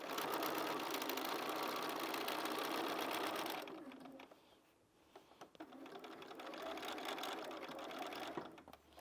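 Sewing machine back-stitching binding on a Christmas tree skirt, a fast steady whirring hum running close and continuous, pausing briefly before starting again.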